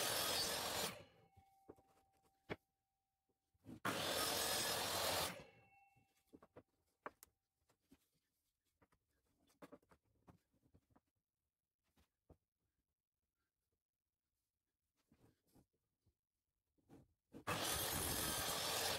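A jigsaw cuts notches for shelf slots in wood, making repeated passes: two loud sustained bursts of sawing near the start and another at the end, separated by quiet stretches with faint clicks and handling noise.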